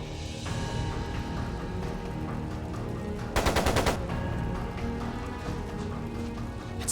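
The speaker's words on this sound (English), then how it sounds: "It sounded like a machine gun." A burst of rapid machine-gun fire rings out in the video game Trails of Cold Steel 2, a short rattling volley of evenly spaced shots over a busy background of music and ambient noise.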